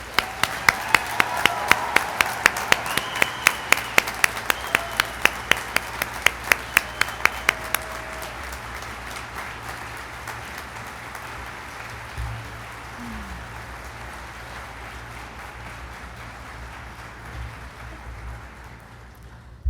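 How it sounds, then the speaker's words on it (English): Commencement audience applauding graduates at a spring ceremony: a loud run of rapid, sharp claps for several seconds, then fading into a thinner, distant patter of scattered clapping over a low hum. "Will the audience please join me in a round of applause again for our graduates?"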